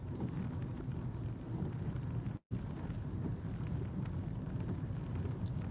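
Heavy rain pours during a storm in Manila: a steady, dense, loud hiss with no pauses except one brief dropout midway.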